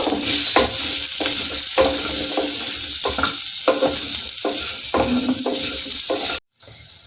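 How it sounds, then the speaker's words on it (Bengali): Steady loud sizzling of potato and carrot frying in hot oil, broken by repeated scraping stirs, with a brief silence near the end. "এটা একটু ভেজে নেব।"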